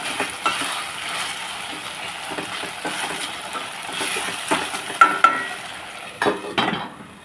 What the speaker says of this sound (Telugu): వేయించినవి ఉల్లిపాయ ఇంకా దుంపలు ఒక్క నిమిషం వేస్తే బాగా ఉడికిపోతాయి